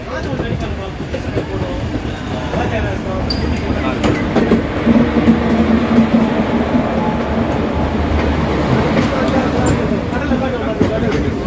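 The West Coast Superfast Express sleeper train from Chennai Central to Mangaluru runs on its rails with a steady loud rumble and faint clatter, and voices talk over it throughout.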